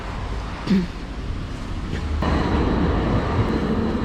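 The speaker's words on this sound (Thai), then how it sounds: "ตรงนี้ฟิลดีมากมีรถไฟวิ่งผ่านจ้ะ" A passing train making a steady broadband rumble that grows louder toward the end, heard outdoors with a brief knock early on.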